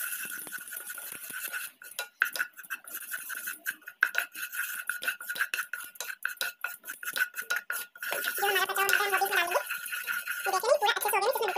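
A metal spoon clinks and scrapes rapidly against a pan while maida flour is stirred into melted butter, a quick irregular rattle that later gives way to a softer sizzle with a voice talking over it.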